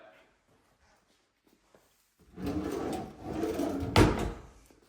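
A pressboard kitchen cabinet drawer in a Henderson, Nevada home is pulled open and pushed shut, giving two close rolling scrapes that end in a sharp knock, after a quiet stretch.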